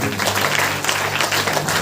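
A church congregation at a Sunday healing service claps in thanks, a brief, loud burst of hands with a voice faintly underneath.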